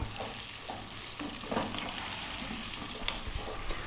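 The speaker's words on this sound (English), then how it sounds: "So I'm going to be frying these around for a few minutes" Steady frying sizzle from potatoes in a pan, a soft continuous crackle with a few brief stirring bumps, fairly quiet and close.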